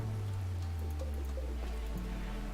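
Rain falling in the video game RimWorld, a steady soft patter over a low droning background hum, with no talking.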